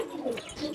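Male pigeons give a short, soft coo, close by and fairly faint, with no talking.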